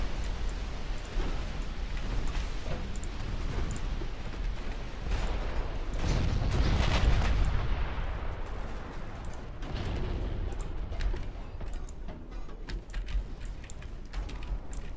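Battleship guns firing in Ultimate Admiral Dreadnoughts, heavy naval gunfire rumbling as a dense, continuous barrage with a louder swell of booms mid-way and sharp crackling reports scattered throughout, with no voices.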